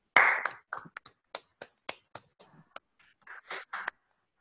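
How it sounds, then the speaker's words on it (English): Sparse, light applause from a small group at a Toastmasters club meeting in India: a dozen or so separate claps land unevenly, then fade into silence. "So let's have a huge round of applause."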